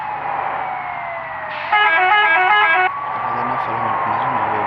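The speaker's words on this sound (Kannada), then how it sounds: "ಫೈರ್ ಇಂಜಿನ್ ಇಷ್ಟೊತ್ತಲ್ಲಿ ಎಲ್ಲಿ ಬಿದ್ದಿರ್ತದೆ" A fire engine siren in the Bus Simulator India game, heard as one short burst of a loud wailing electronic tone over steady engine drone, with someone talking beside it.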